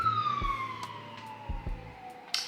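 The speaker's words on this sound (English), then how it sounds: "Ignore the siren in the back." An emergency vehicle siren wails in the background, a single falling tone that is moderately distant, with a few low thumps and clicks close by and no speech.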